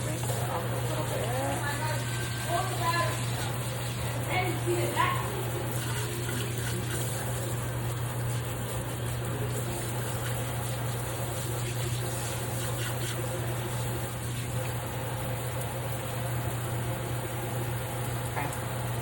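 Hot tap water running steadily while a newly bought Hoya plant is rinsed during repotting, a continuous splashing gush with a low hum under it and a few brief spoken remarks.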